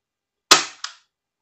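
A Tokyo Marui USP spring airsoft pistol fires a 0.20 gram BB, one sharp, close crack followed by a brief ringing tail and a smaller echo-like click, then silence.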